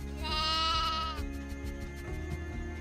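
A lost sheep in a video game lets out one clear, drawn-out bleat, close and fairly loud. A quieter, rougher trailing bleat follows over a low game-music bed.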